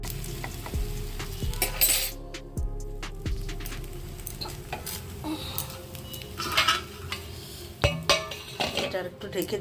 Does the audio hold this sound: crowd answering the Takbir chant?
no